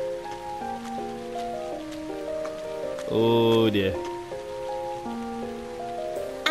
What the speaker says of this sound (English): I didn't even realize because of the rain.